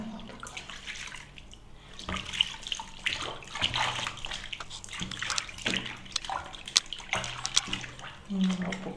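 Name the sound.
water splashing while bathing a baby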